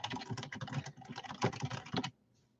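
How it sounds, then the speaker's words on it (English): Fast, dense keystrokes on a computer keyboard, rapid clicking for about two seconds then stopping abruptly; close and clear with no talking. "I just typed."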